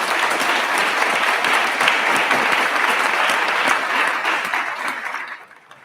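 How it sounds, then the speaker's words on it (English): Audience applause at a ribbon cutting opening a dental clinical training facility, a dense steady clapping from a crowd that holds loud for about five seconds before tapering off quickly at the end. "So round of applause for Touro team."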